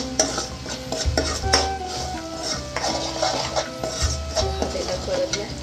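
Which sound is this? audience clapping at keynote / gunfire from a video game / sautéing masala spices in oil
sautéing masala spices in oil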